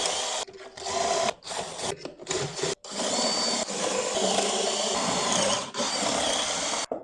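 A power drill whirs in bursts while boring a dowel hole in wood to depth, stopping briefly between runs, then spins steadily for several seconds, loud and close.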